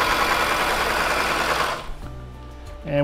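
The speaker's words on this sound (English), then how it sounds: "as we're sewing along, and we're on one layer of material" A Consew industrial sewing machine stitches through a single layer of material, a fast steady whirring rattle that runs close and loud for under two seconds, then stops and leaves a low hum before starting again.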